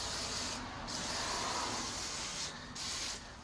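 Electronics parts cleaner sprayed from an aerosol can onto oily ignition coils during spark plug work on a 2006-09 Ford Fusion or Mercury Milan, a close, loud steady hiss with two brief pauses between bursts.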